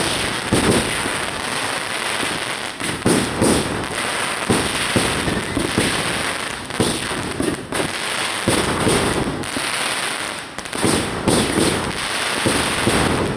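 A grand fireworks display booms and crackles continuously at a Christmas park opening at a provincial capitol in Apayao, with dense overlapping bursts, loud and close throughout.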